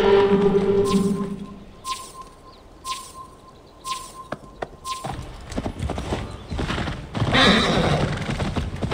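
A horse in the video game Assassin's Creed Valhalla whinnies and its hooves clip-clop, with game music and ambience around it; the clatter of hooves grows louder and busier in the second half.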